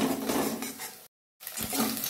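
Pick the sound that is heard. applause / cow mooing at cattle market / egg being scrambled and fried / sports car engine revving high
egg being scrambled and fried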